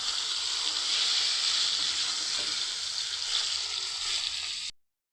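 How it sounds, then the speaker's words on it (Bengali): Stuffed pointed gourd (potol) fries in oil with a loud, steady, hissing sizzle, close up, until the sound cuts off abruptly near the end. "পটলগুলো কিন্তু ভাজা হয়ে গিয়েছে দেখুন লাল লাল করে"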